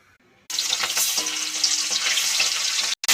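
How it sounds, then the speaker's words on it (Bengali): Hilsa fish sizzles in hot oil in a wok, a dense, steady crackling hiss that starts abruptly after a brief quiet moment and continues loud and close until a short break at the end. "ইলিশ মাছটা এবার ভেজে নেব। কড়াইতে তেল দিয়ে দিলাম।"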